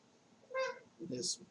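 A single short, faint meow from a cat, followed by a brief softer rustle and a high hiss.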